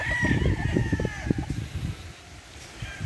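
A gamefowl rooster crows at a poultry farm in Laguna, a loud, close, drawn-out call with other fowl sounds and farm noise behind it.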